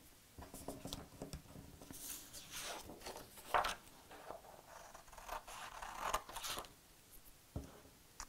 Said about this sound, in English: So let's cut this out.